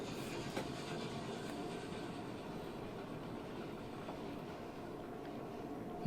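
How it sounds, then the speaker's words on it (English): A train pulls in within the video game Oddsparks, a continuous low rumble of rolling rail cars with faint clickety-clack, even and fairly quiet throughout, with no voices. "So here comes the train now."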